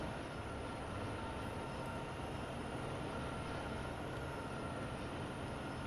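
SD70ACE diesel freight locomotive in Train Sim World 2, rated at 4,300 horsepower: a steady, dense rumble of engine and rolling rail noise that holds at an even level throughout with no speech.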